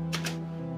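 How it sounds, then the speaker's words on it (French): Two crisp key clicks tapped on the keyboard of an Amstrad NC100 portable computer, close and distinct, over a steady low electrical hum. "si je tape sur l'Amstrad NC100, sur le clavier de l'Amstrad NC100"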